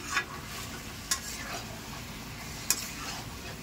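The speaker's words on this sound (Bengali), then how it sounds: "ততক্ষণে মাংসটা ভালো করে কষিয়ে নেব" Chicken meat sautéed in a pan for chicken biryani, with a soft continuous sizzle and three sharp scraping clinks of a spatula against the pan spaced across the clip.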